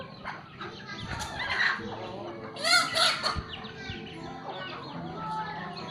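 Several chickens cluck and squawk close by, a busy overlapping stream of calls with a louder burst of cackling midway, mixed with faint background noise.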